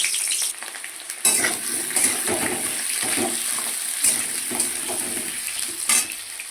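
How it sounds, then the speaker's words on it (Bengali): Potatoes fry in hot mustard oil in a kadai, giving a continuous close sizzle broken by several sharp stirring scrapes and clinks of the spatula. "এবার আলুগুলো আমি ভেজে নেবো ভালো করে"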